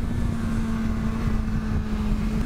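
A BMW S1000RR motorcycle rides on a race track, its engine a steady droning hum under heavy wind rush, with a constant pitch and no voices.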